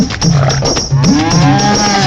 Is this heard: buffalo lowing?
yes